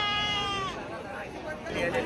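Goats bleat at a busy livestock market, one drawn-out wavering bleat up close, over a steady crowd hubbub and people talking.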